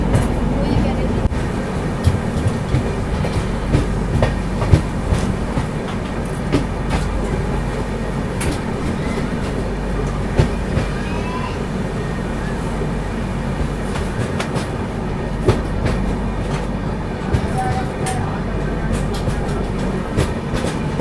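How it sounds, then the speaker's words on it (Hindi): 12190 Mahakaushal Express rolling onward after departing Mathura Junction, heard from inside: a steady low rumble with sporadic rail clicks and clatter running throughout. "बाकी अपनी ट्रेन निकल चुकी है मथुरा जंक्शन से।"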